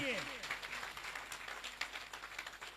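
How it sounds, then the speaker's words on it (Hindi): Audience members clap at a motivational business event, a steady patter of applause at fairly low level heard alone without speech over it. "जोरदार वाली तालियां होनी चाहिए।"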